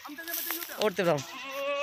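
Rajanpuri goats and young kids bleat close by, several overlapping wavering calls rising and falling in quick succession, with quieter bleats trailing off at the end.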